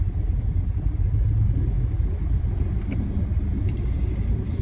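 A Mitsubishi Montero diesel engine accelerates as a deep, steady rumble heard from inside the vehicle, low and constant with a slight rise and no voices over it.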